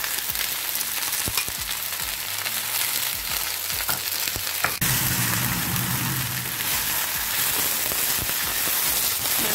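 Green chillies sauté in a pan for lady's finger curry, giving a loud, constant close-up sizzle with scattered crackles and stirring scrapes, and a brief clack midway.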